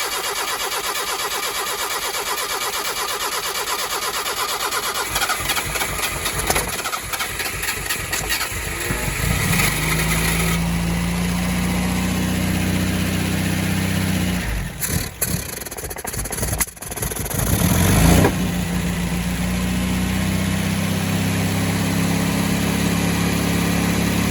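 Car engine cranks and fires up on a warm day at the first start of the year, then settles into a steady, fairly loud idle with a brief stumble midway.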